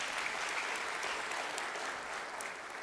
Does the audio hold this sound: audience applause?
yes